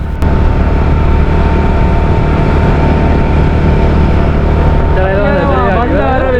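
Loud, close motorbike engine droning steadily while riding through Ella town in Sri Lanka at night, with a voice speaking over it near the end.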